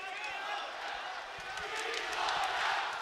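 A boxing arena crowd chants for Viloria during a bout with Romero, a loud, continuous roar of many voices with rhythmic pulses running through it.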